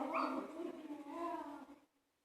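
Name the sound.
small dog whimpering and yipping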